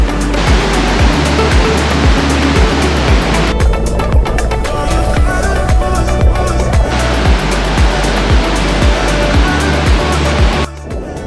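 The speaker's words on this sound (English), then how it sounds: "I went over to explore the cove that was being bombarded by waves" Ocean waves pound into a rocky cove on the Oregon coast, a continuous loud roar of surf with repeated crashing surges and a brief dip near the end.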